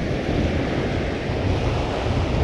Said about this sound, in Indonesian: Anginnya kencang, anginnya kencang.